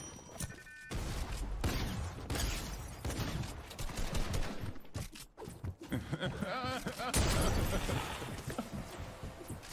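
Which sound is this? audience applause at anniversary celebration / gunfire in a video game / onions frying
gunfire in a video game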